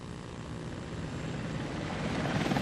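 An Apache military helicopter flies close by, its dense broadband rotor and engine roar steady and loud throughout, growing slightly stronger toward the end with no voices over it.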